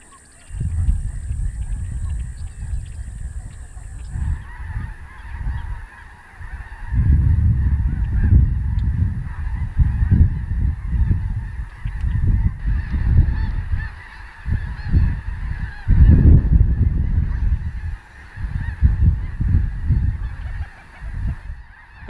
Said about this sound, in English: lesser snow geese, greater white-fronted geese, and black-necked stilts